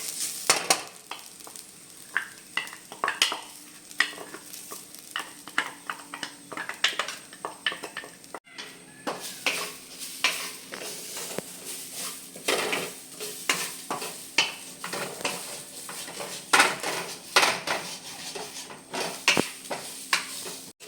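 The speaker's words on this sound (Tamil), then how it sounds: "தேங்காய் வந்து இந்த அளவுக்கு நெய்யில் வறுத்தா போதும்" Grated coconut roasts in ghee for colourful kozhukattai as a spoon stirs it steadily, giving a long run of scraping strokes and clicks over a continuous close sizzle with no talking.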